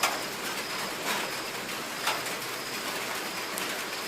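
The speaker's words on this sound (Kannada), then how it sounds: "ನೀರು ಇನ್ನು ಇವಾಗ ಸ್ಟಾರ್ಟ್ ಆಗ್ತಾ ಇದೆ ಮಳೆ." Rain beginning to fall outdoors, a steady dense hiss of drops with a few slightly louder patters, even and continuous with no talking.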